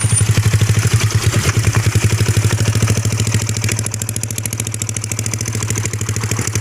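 A Yamaha Mio scooter with a 59/3 engine setup idles close by, giving a loud, steady, fast-pulsing putter with rattly clatter that stays even for several seconds.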